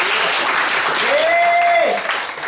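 Applause from a church congregation, broadband clapping held steady for about two seconds and then tapering off, with a sustained sung or hummed tone rising above it in the middle.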